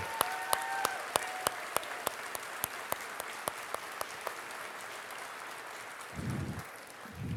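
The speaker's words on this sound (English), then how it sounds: "I want to give a round of applause to you, our employees." At a cooperative's 2017 annual meeting, sparse, evenly spaced claps ring out at a steady rhythm for several seconds, fairly faint and distant, with a brief low murmur near the end.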